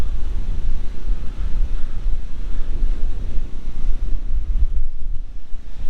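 Strong wind gusts roar continuously across the microphone at a riverside campsite on the Murray River at Moorook Game Reserve, South Australia, a loud, buffeting low rumble that surges and eases throughout without any talking.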